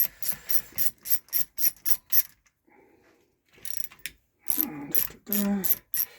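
Ratchet clicking as bolts are undone on a 31ci single-cylinder Briggs racing engine, a string of quick, close, loud bursts of clicks, a short pause, then more clicking.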